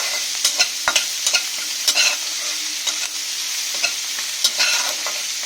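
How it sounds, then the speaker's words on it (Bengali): Onions frying in a pan, fried until reddish-brown for a curry with hilsa and rohu fish heads, ash gourd and Malabar spinach: a steady close hiss of oil with repeated sharp scraping stirs, no voices. "পেঁয়াজটা প্রায় লাল লাল ভাজা হয়ে এসছে"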